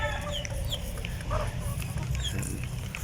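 Rhode Island Red chickens cluck and squawk in a coop, several fowl calling at once over constant low background noise, with short sharp calls scattered through the clip.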